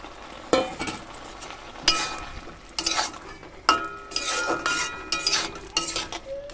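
Chopped mango pieces go into a pot of boiled taro leaves with a series of clinks and scrapes from utensils against the pot, spaced a second or so apart over a soft simmering background.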